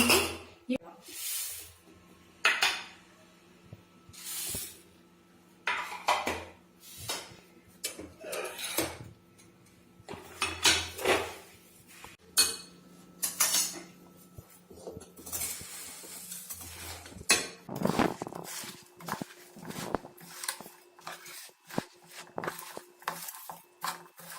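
A spoon scrapes and clatters in a pan while a sticky puffed rice mixture is stirred with jaggery syrup, cardamom, dry ginger and roasted coconut, a steady run of close metallic scrapes and taps, with a voice speaking at times.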